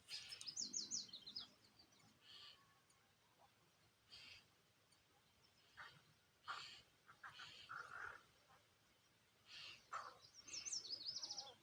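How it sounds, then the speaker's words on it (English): Several birds chirp and trill on a calm Sunday morning in a garden with a slight breeze, short bright calls coming in scattered bursts at a distance over quiet air. "Birds chirping."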